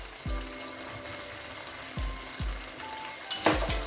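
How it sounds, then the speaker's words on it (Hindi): Mutton karahi with tomato pulp, salt and black pepper fries quietly in a pan, giving a soft, steady crackle broken by a few light utensil knocks and a short louder spatter near the end. "और इसको अच्छा सा भूनेंगे हम।"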